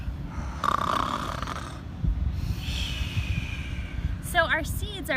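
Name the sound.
voices imitating a loud snore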